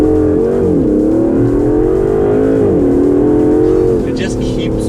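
The 007 Bond hypercar pulls hard under acceleration, its engine tone rising in a loud close drone that climbs in steps, while someone talks over it.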